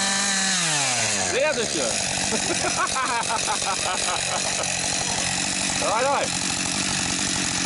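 A chainsaw cuts firewood, its engine revving hard and bogging down through the cut in a steady, loud snarl. People talk over it.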